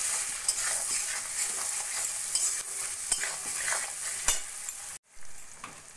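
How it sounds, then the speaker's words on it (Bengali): A spice paste with salt, turmeric and cumin fries in a pan for chana dal khichuri, a steady sizzle broken by repeated scraping stirs of a spoon. The sizzle drops out briefly near the end, then resumes. "হলুদ আর জিরের গুঁড়ো দিয়ে মশলাটা ভালো করে কষিয়ে নেব"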